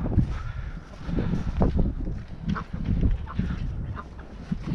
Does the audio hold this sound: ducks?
yes